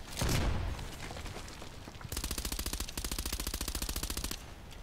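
RFB rifle gunfire in a shooting video game: a heavy opening blast, then a rapid steady string of shots rattling on for a couple of seconds, loud and close with no talking.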